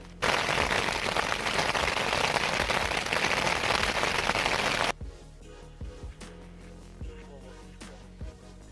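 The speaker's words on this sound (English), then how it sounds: "Another day on trail, another day of precipitation. This time, though, it's hail." Hail pelts down on a Colorado mountain trail, a dense loud hiss of hard pellets for about five seconds before cutting off, followed by scattered knocks and handling noise close by.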